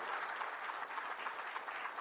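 Sustained audience applause greets the unveiling of the 2022 McLaren Formula 1 car livery, a dense steady wash of many hands clapping at moderate level throughout.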